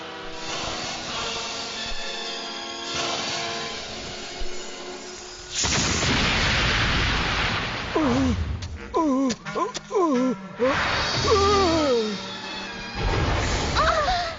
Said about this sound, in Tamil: எனக்கு வெடி சத்தம் தான்.